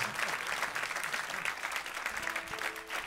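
Audience applauding at a live acoustic concert in Philadelphia, a steady dense wash of clapping from a crowd held at an even level throughout, with no speech over it.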